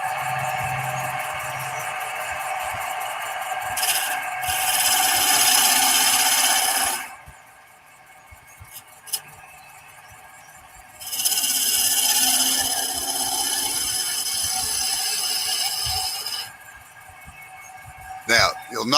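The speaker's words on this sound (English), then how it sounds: "using your skew chisel, you are going to do a planing cut right from the top to the tailstock end" Skew chisel making planing cuts along spinning wood on a lathe, toward the tailstock end, giving two sustained bright scraping passes separated by a quieter gap, with a voice talking over it.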